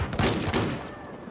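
Battlefield 4 gunfire, a quick cluster of several sharp shots in the first half second that fades into a lighter, noisy tail.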